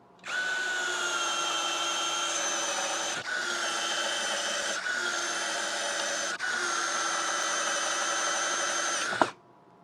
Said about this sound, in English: We'll compare them with the Hyper Tough brushless 12-volt, which will undoubtedly beat them badly